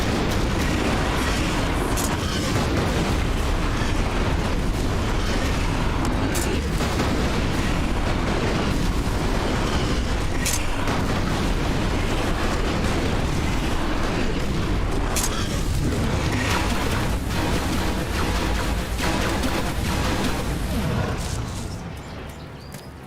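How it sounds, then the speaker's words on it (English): Grenade launcher rounds go off against a large enemy in the video game ELEX on ultra difficulty: repeated heavy booms and blasts over a continuous loud, dense din that fades at the very end. "grenade launcher on that big guy"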